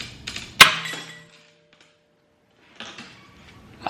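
One loud, sharp metallic crack bursts out as a toe arm in a Lexus IS300 suspension pops free of its joint, followed by a short rattle, a quiet pause, then faint handling noises.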